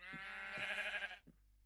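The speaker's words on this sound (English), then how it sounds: "I know, these sheep are excited too." A Minecraft sheep gives one clear, quiet, wavering bleat of just over a second, alone without talk.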